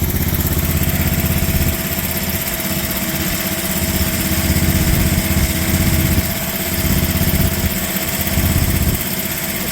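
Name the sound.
MIVA VA15 mini excavator engine idling cold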